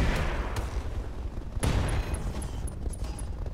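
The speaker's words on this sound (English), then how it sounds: "We're going to use the incendiaries." Incendiary weapons fired at a mech in the Roguetech game, a run of sharp bursts and booms with two strong impacts and a string of faint high ticks between them, loud and busy throughout.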